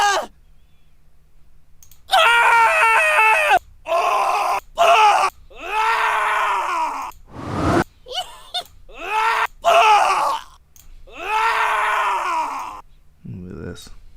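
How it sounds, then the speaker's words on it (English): Screams and groans from a horror sound effects library play one after another, loud and drawn out with short gaps between them, some rising and falling in pitch. "There's some screams. We got screams."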